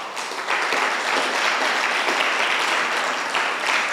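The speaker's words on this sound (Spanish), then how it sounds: "Dale un aplauso a Dios si lo crees." A church congregation applauds for God during a Spanish-language sermon, a continuous, full roar of clapping that holds steady and close throughout with no talk over it.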